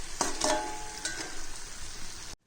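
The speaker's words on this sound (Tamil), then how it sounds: "சுண்டைக்காய் வற்றல் எண்ணெயில் பொரிச்சது" Sun-dried sundaikkai (turkey berry) frying in oil crackles with a soft, even sizzle, marked by a few brief sharp pops near the start. The sizzle cuts off abruptly just before the end.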